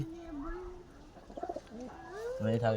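A sick pigeon with a cold coos in short, soft pulsing bursts, close by, with some voice-like sounds and handling noise around it.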